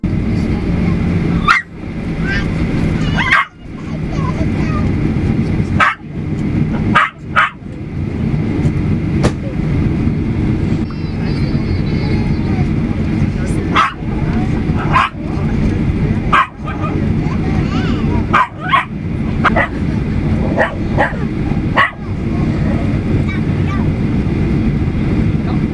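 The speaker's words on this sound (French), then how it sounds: "le chien qui aboie c'est encore pire, parce que lui ça le fatigue pas d'aboyer" A dog barks repeatedly aboard a passenger flight, sharp barks and yips spaced irregularly over a constant loud aircraft cabin roar.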